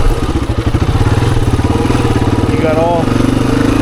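Heavy Honda XR400 dirt bike plowing over rocks off-road, its single-cylinder engine chugging steadily and loudly up close near idle, with a rider speaking over it.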